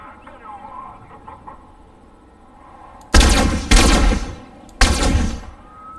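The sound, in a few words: gunfire in Fortnite video game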